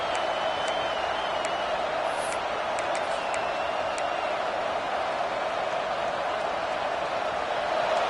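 A stadium crowd in the College Football 26 video game cheers in a steady, full, unbroken roar, with faint high whistles now and then above it.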